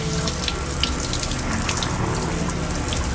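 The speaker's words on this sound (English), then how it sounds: "Everybody that comes in takes a shower." A shower runs at the entrance to an underground neutrino lab, a steady hissing spray of water with faint splashing, close and continuous.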